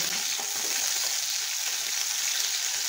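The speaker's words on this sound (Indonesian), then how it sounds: "Nah, sudah panas, sekarang kita masukin kentangnya" Potatoes frying in hot oil for a vegetarian Nepali dish, a steady, dense sizzle and crackle that holds evenly throughout with no voices.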